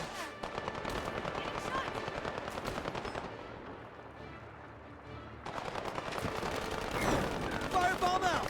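Rapid gunfire from the video game HighGuard rattles loudly and continuously, with dense bursts that briefly thin out midway before resuming heavier, layered with game effects.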